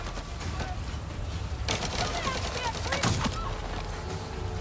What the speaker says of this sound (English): they're shooting like Call of Duty